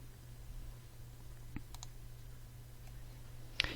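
A computer mouse clicks a delete icon while items are removed in a presentation maker: a few faint, sharp clicks at close range, a couple grouped together and one louder click near the end, against a quiet electrical hum.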